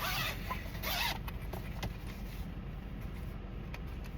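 A zipper on a headphone case is pulled open in one close, rasping stroke lasting about a second, followed by quieter handling sounds.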